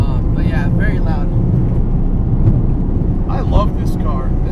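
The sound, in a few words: noisy R888 tires on modified Mazda RX7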